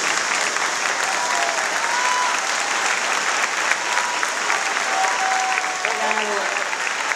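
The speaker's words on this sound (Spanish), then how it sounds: "Me gustaría que diéramos un aplauso a Edmundo Cepeda" An audience at a book presentation gives sustained, dense applause that holds at an even level throughout, with faint voices calling out underneath.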